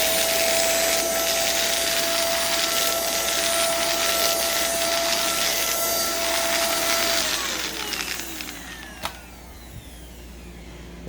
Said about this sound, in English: It's a stick vacuum with a cord